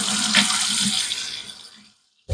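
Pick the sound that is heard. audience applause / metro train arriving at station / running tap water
running tap water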